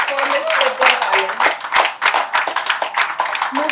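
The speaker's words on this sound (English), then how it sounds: "I would urge everyone to give a huge round of applause today for Ms. Vidya Balan." Audience applause at a book launch, dense clapping from a crowd filling the room at fairly close range, with voices heard over it.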